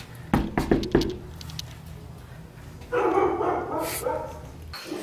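Family dogs bark several times in a quick, close cluster, followed by rustling, movement and excited greeting sounds at a parents' home in Fruita, Colorado.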